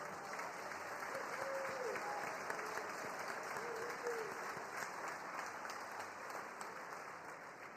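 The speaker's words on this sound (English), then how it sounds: "let's give all of our competitors and cadre another round of applause for a job well done" At a Sandhurst Military Skills Competition awards ceremony, the crowd gives sustained applause to the competitors and cadre, a steady wash of clapping heard from a distance under a faint constant hum.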